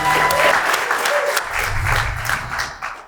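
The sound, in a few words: audience applause for student teams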